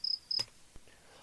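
Crickets chirp as a sound effect: two quick, high, faint trilling bursts close together, alone without speech.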